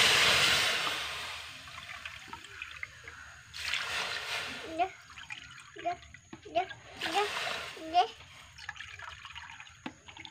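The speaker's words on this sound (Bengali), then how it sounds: "আমি চার বাটি জল দেব।" Water is poured into a pot of sugar to make syrup for rasgulla, with splashes and pouring bursts, then dripping and gurgling close by while someone talks over it.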